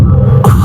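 A short burst of heavy, throbbing bass booms loudly and close from a speaker wired with a capacitor, with no voices.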